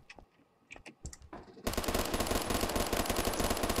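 Gunfire in the first-person shooter Phantom Forces: after a few scattered clicks and thuds, a loud sustained burst of rapid automatic fire takes over and runs without a break.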